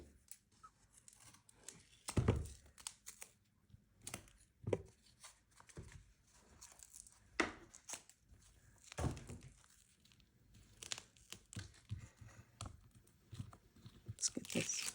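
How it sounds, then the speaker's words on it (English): Wide foam tape being handled and pulled apart for a floral scrapbook layout, heard as scattered close crinkles, tearing and sticky rips at an irregular pace, with some soft talking mixed in. "I have my wide foam tape that I'm going to use"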